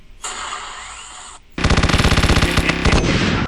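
Gunfire in a first-person shooter game: a steady hissing burst first, then a loud, rapid automatic stream of shots in an even rhythm that continues to the end.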